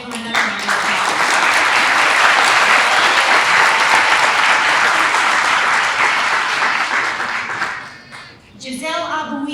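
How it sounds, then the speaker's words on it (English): Sustained, loud applause from a large crowd at a school scholarship awards ceremony fills the room for several seconds, then fades out as it ends. "Let's give them another round of applause."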